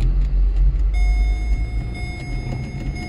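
A Volkswagen Passat B6 with an automatic (non-DSG) transmission running on a rusEFI standalone engine controller, driving with a steady low engine rumble and road noise, and a faint steady electronic whine joining after the first second.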